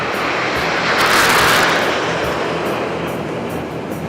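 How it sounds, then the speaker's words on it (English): Jets of the Indian Air Force's Surya Kiran aerobatic team roar past overhead at an air show, a loud, steady broadband engine rush that swells and slowly fades. "Here come the ambassadors of the Indian Air Force, the Surya Kiran aerobatic team, led by Group Captain Gurpreet Singh Dhillon"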